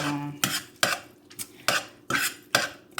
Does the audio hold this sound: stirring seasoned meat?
yes